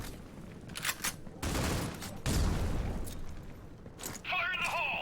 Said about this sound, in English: Lots of grenades being thrown.